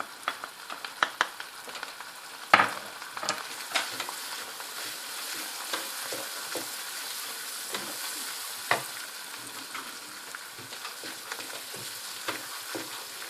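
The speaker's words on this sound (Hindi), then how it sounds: "ये देखें अब इसमें मैदा डाल के ये भूनना है" Onions and a little flour sautéing in a pan for egg curry sauce, a soft continuous sizzle broken by frequent light scrapes and taps of a spoon, close and without speech.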